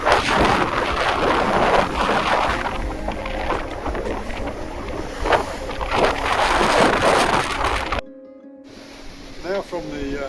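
Strong wind of about 20 knots buffeting a Dixon 65 sailing yacht at sea south of Sardinia, loud gusty rushing and microphone buffeting with surging rises, before a sudden drop near the end into quieter sound with a voice speaking.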